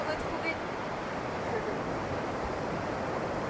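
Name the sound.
ocean waves on the beach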